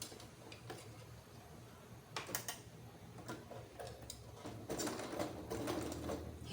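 A sewing machine runs a topstitching pass along the side of a quilted fabric panel while a zipper is set into a curved garment. It gives a steady, moderately quiet mechanical whir with light ticking and a few short bursts of faster stitching.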